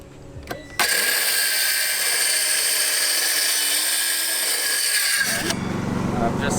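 A high-pitched power tool whines continuously for several seconds as it cuts, starting abruptly after a few knocks and stopping just as suddenly.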